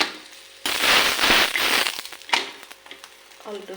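Semolina flatbread (sooji poli) roasting on a hot pan, a loud crackling sizzle that starts abruptly and then tapers into scattered pops and faint clicks.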